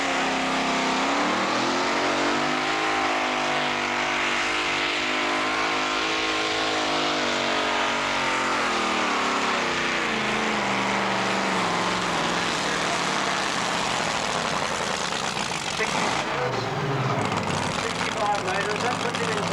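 Tractor at a 1985 tractor pull in Quambatook, its engine roaring loud and continuous with the pitch rising and falling as it works under load, then dipping briefly near the end, with a commentator talking over it.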